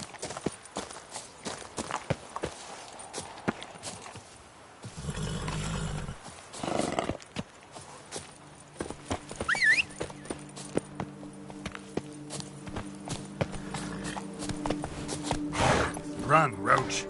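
Roach the horse galloping in The Witcher 3, steady hoofbeats drumming beneath music and game ambience, with a brief whinny and an occasional voice over the top.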